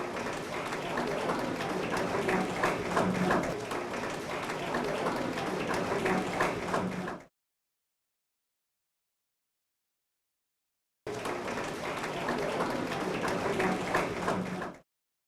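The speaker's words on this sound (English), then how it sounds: "I think they deserve a round of applause" Applause from the audience at an agricultural training graduation ceremony. Dense, steady clapping fills two stretches, separated by a few seconds of complete silence.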